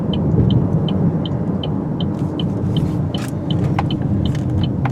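A 2013 Chevy Malibu 1LT drives along the road, with a steady loud rumble of road and engine noise inside the cabin and a regular light ticking, like a turn signal, repeating throughout.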